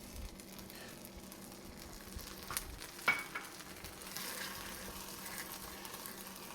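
Minced garlic sizzles quietly in olive oil in a heated pan, a soft steady crackle with a single sharper pop midway, no voices.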